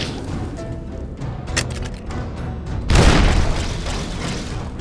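A bomb goes off in the video game Fallout New Vegas with a sudden loud boom and rumble partway through, after some clattering game noise, then fades into a lingering tail.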